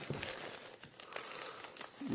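Close, brief crinkling and rustling of paper and plastic packaging around Soviet-era tableware, a few quick crackly bursts with no talking.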